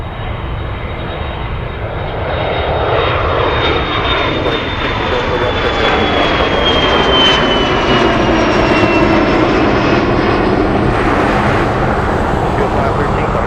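An Air China Cargo jet departs Anchorage, its engines a loud, steady roar that swells and holds throughout, with a high whine sliding slowly across it.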